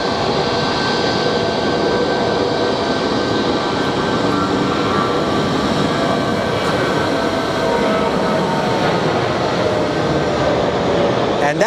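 A large jet airliner's engines roar steadily and loudly on a rainy day at Sky Harbor International Airport, making a dense, unbroken rumble that fills the whole stretch.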